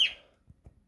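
Outdoor birds give a single bright chirp at the start that fades quickly, followed by a couple of faint low knocks in an otherwise quiet room.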